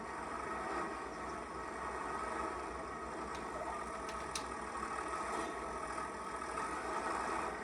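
Tractor engine in Farming Simulator 25, a faint, steady idling drone with a low hum and a couple of brief soft clicks, no voices.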